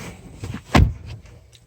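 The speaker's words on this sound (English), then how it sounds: "Nice thump to the door." A single solid thump of a Hyundai Santa Fe 2.0L Turbo door shutting, close by, with quiet surroundings before and after.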